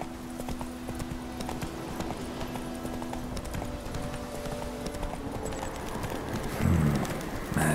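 Horse hooves clip-clopping steadily in The Witcher 3 video game, a continuous rhythmic stream of hoofbeats with game ambience behind it and a brief louder thump near the end.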